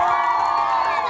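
A crowd at a live music performance cheers and shouts in a sustained loud burst, with excited voices and whoops layered together and no distinct clapping.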